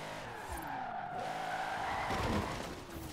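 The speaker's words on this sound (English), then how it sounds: "Oh, it'll hold a little bit of a drift, not a lot." Car tires squeal and skid through a drift in Forza Horizon 4, a sustained screech over a droning engine that swells loud, then fades slightly, with no speech.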